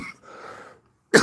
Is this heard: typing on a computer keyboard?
no